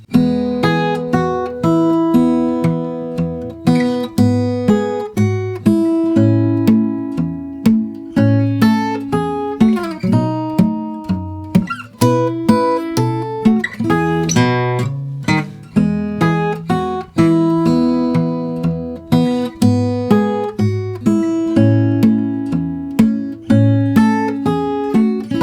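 The verse of Jingle Bells is played slowly on fingerstyle acoustic guitar, with plucked bass notes under a melody. Notes ring clearly and close for about twenty-five seconds with no voice.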